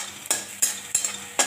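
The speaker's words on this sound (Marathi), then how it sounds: "आता ठेचलेलं लसूण टाकू आपण त्याच्यामध्ये। कांदा चांगला लालसर होऊन द्यायचा।" Crushed garlic and onions fry in a pan, a constant close sizzle broken by four sharp scraping stirs of a utensil at roughly regular intervals, with no voices.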